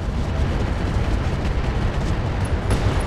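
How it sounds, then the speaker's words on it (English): Ammo explosion in the RogueTech mech combat video game: a loud, dense, continuous rumbling blast that fills the whole stretch, with a sharper crack near the end. "Ammo explosion on you."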